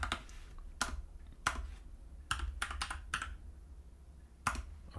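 Keystrokes on a computer keyboard during a game development session, sounding as scattered clusters of close, crisp clicks with short pauses between bursts and no talk.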